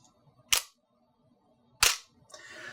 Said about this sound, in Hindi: तो आपने देखा कैसे शटर खुला और फिर बंद हुआ।